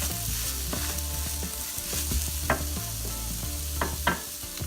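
Grated cauliflower garri dry-frying in a pan gives a steady sizzle, with intermittent scraping and tapping from stirring, close and moderately loud with no talk.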